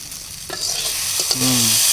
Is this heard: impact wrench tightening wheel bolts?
no